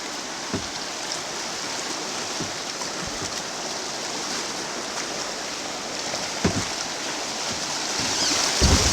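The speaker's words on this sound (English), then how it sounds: "Whoa, took in some water that time." River water on Antietam Creek splashing over and into a small boat running rapids, a steady rushing wash with scattered sharp splashes and a louder surge near the end.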